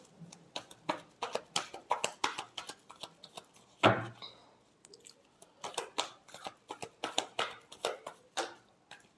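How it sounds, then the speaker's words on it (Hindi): Tarot cards being shuffled in quick bursts of crisp, papery riffles and flicks, with a brief louder thump midway, close and clear with no talking. "Last shuffle."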